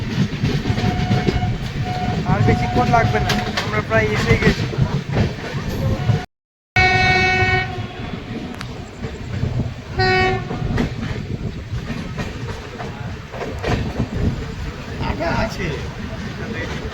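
A train rumbles along the rails with a rhythmic clatter, a horn blaring partway through, while a person talks over the noise, as the train departs Mallarpur station bound for Rampurhat.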